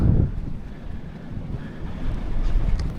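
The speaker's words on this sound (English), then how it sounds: "It's a bit windy right now." Strong wind buffeting the microphone aboard an anchored boat, low rumbling gusts rising and falling, with a faint watery backdrop and no voices.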